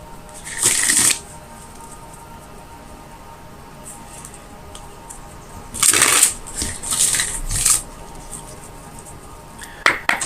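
A tarot card deck being shuffled, crisp riffling bursts near the start, a longer cluster in the middle and a short one at the end, loud and close with no talking.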